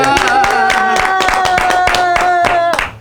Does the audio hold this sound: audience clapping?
yes